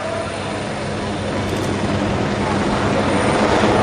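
An AgustaWestland HH139 search-and-rescue helicopter flies a spiral takeoff at an airshow in Jesolo, making a loud, constant broadband rotor and turbine roar that swells slightly as it climbs.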